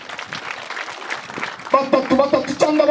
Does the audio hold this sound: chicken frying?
no